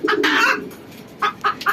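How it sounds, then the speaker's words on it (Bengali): A hen that has just laid an egg clucks loudly and close by: a drawn-out cackle, then three short sharp clucks in quick succession, with no talking. "ভিডিওর মাঝখানে মুরগিটা ডিম দিয়ে দিছে আমাদের, ওই যে ডাকতাছে এখন"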